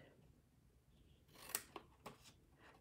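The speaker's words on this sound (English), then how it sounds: "cut off this thin rectangle at the top as well" Scissors cut a thin rectangle from the top of a card gift box, with a few quiet, close snips spread over a couple of seconds.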